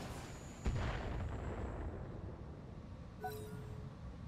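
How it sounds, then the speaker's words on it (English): Artillery shells striking in the BattleTech mod RogueTech: a sharp impact near the start followed by a long rumbling roll, then a fainter secondary burst with a tonal whine near the end, fairly quiet overall. "Did that artillery hit?"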